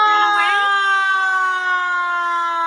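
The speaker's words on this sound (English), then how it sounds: "There's the siren." An emergency siren wails loudly and steadily, holding a sustained tone with a slight pitch shift near the start.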